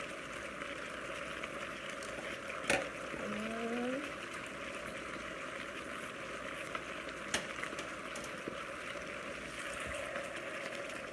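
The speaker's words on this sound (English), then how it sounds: "Just going to stir this around so that the zucchini can heat up" Chicken and zucchini stir fry sizzles steadily in a pan, a constant close frying hiss broken by a couple of sharp utensil clicks as the food is stirred.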